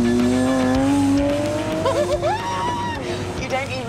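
A Lamborghini Sian hybrid V12 supercar accelerates on a road drive, its engine note rising steadily in pitch and then stepping through gear changes, loud and close throughout.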